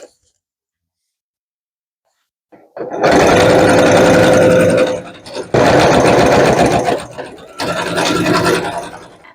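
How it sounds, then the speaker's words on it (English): A sewing machine stitches together two pieces of weathered, crinkled fabric, running in three loud, steady bursts with short pauses between them, close to the microphone after a silent start. "So I'm going to sew these 2 pieces."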